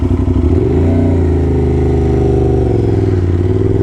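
An Aprilia RS660 motorcycle fitted with an SC Project exhaust, ridden at night in cold weather, drones loudly and steadily up close, with its engine pitch sweeping up and down as the rider shifts through the revs.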